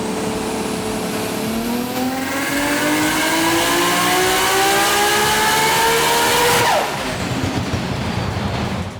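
Nissan GT-R fitted with a Garrett G35-1050 single turbo running about 35 psi boost on a Haltech Elite 2500 ECU, revving loudly as the engine note climbs steadily through the rev range before cutting off abruptly near the end.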